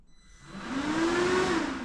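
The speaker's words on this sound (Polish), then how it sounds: "Sterowanie siłownikami, czyli wentylator." BMW F800S motorcycle cooling fan switched on by a diagnostic actuator test, a whirring hum that spins up over the first second and then holds steady and fairly loud, with a rising tonal whine.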